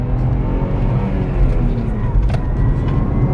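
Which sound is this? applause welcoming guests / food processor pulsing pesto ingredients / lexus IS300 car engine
lexus IS300 car engine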